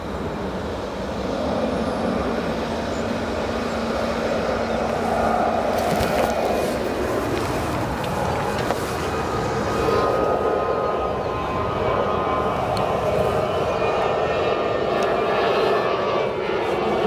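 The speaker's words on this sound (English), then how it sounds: "Got a FedEx 767" A FedEx Boeing 767 arrives at O'Hare, its steady broadband engine roar holding loud and continuous throughout, with a faint voice now and then in the background.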